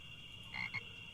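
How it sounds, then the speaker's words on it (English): A frog croaks twice in a point-and-click video game, the short, fairly quiet calls sitting over a steady electronic hum, followed by a sudden louder burst at the very end. "Oh, I hear a frog."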